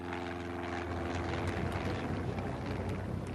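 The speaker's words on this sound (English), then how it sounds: "a Cessna light aircraft landed in Red Square" A Cessna light aircraft gives off a steady propeller-engine drone. The sound stays loud and continuous through the short stretch, over a broad rushing wash.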